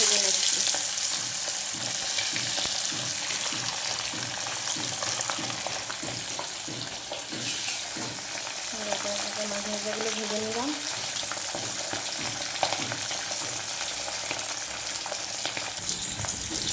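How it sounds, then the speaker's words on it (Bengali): Steady crackling sizzle of pomfret frying in hot oil in a kadai, continuous and close, with brief clinks of a utensil; no talking. "কড়াইয়ে তেলটা গরম হয়ে গেছে একে একে মাছ ভাজাগুলো"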